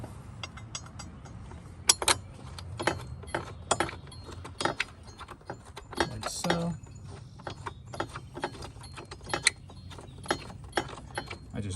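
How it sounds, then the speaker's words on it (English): A ratchet tightens the battery hold-down bolt on a Toyota Prius, giving quiet, close clicking in short irregular bursts with occasional metallic clinks against a faint room background. "Take the ratchet to it again."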